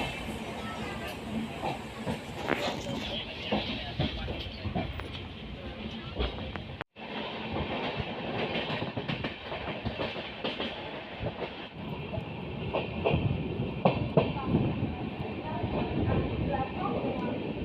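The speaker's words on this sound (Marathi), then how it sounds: "आता आपली ट्रेन सुटलेली आहे लोकमान्य टिळक टर्मिनस वरून।" An LTT–Madgaon express pulls out of Lokmanya Tilak Terminus in Mumbai, heard from on board as a steady rumble with rhythmic wheel clatter and hiss, with people talking in the carriage.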